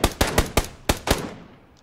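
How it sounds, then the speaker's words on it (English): Six sharp gunshots ring out in PUBG during a solo match, coming in two quick bursts with a short gap between them, then a tail that fades off. The rounds strike metal barrels behind the player. "I heard the sound of gunshot on metal."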